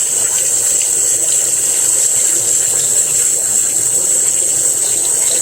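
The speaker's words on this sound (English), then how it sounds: "So the water will always be bubbly like this." Steady bubbling and gushing water from a hose feeding a rocket-shaped fountain, a continuous loud wash with a bright hiss on top, no pauses and no voices.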